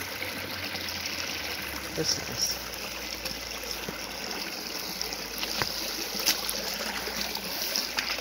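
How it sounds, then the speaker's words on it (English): Steady rushing of a river flowing over a small waterfall, with a brief spoken remark over it. "Looks like a little waterfall."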